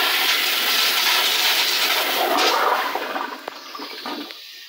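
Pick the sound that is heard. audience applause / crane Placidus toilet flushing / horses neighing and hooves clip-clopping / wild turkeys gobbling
crane Placidus toilet flushing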